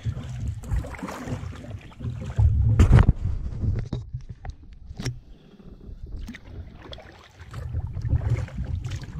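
Canoe paddled across a lake between portages, with steady low splashing and water wash from strokes, occasional louder gusts and knocks, close to the microphone and without talk.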